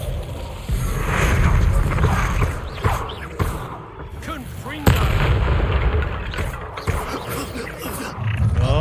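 Confringo spell blasts in the Hogwarts Legacy video game: loud booming impacts and rumbling roars amid busy combat noise, with sharp bangs standing out.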